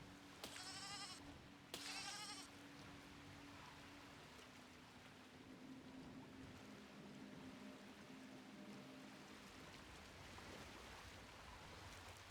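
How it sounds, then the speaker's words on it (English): Two short, close bleats from sheep in the physics building game Besiege sound one after another at the start, followed by a steady hiss of ambient game noise. "There's sheep."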